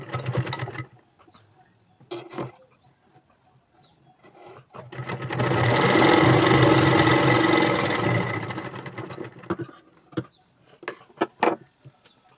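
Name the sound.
sewing machine stitching piping on a boat neck blouse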